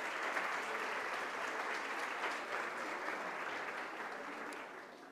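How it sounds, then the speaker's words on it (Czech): A crowd at a talk-show style public event applauds to welcome a guest, steady dense clapping heard from a distance at low level, fading slightly toward the end. "Prosím potlesk."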